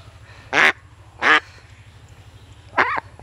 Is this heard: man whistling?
no